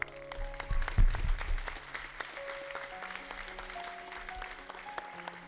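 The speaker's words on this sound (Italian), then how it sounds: "Farei un applauso." A studio audience gives a quiet round of clapping, with a louder cluster of claps early on. It then settles into faint, scattered applause over a steady tonal hum.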